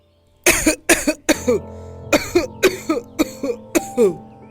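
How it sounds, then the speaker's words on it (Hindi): A series of about ten harsh, close coughs from an elderly grandmother suddenly falling ill in a cartoon, in an irregular rhythm, each short and forceful with brief gaps between. "अचानक से तुम्हें खांसी क्यों आने लगी?"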